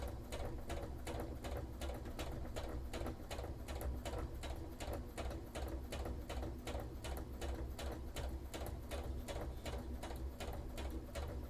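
A Craftsman-style home sewing machine runs steadily, stitching a shirt seam for a cosplay costume with a fast, even mechanical clatter that lasts throughout.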